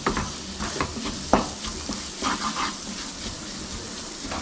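Garlic masala sautéing in a little oil in a pan for Malabar chicken chatti pathiri, a continuous bubbling sizzle under repeated spoon stirs and scrapes, close and alone.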